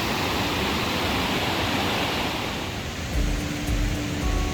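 A forest waterfall in the Pacific Northwest, a loud, broad, continuous rush of falling water filling the scene, with a few brief low thumps and a faint tone near the end.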